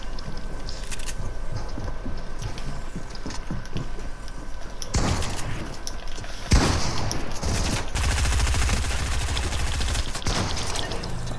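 Rapid bursts of automatic gunfire from a gun in Fortnite, loud and sustained in several long volleys with short gaps, over steady game background noise.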